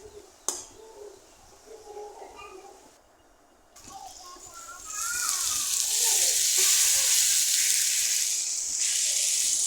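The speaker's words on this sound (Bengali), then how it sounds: "এভাবেই নেড়ে চেড়ে আমি কাঁকরোলটা ভেজে নিচ্ছি।" Spiny gourd (kakrol) fries with cumin powder in a pan, a bright steady sizzle swelling up and holding after a quieter start, with faint stirring clinks and a soft voice early on.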